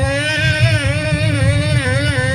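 A voice imitates a trail motorbike engine with a continuous buzzing, warbling drone, steady and moderately loud throughout.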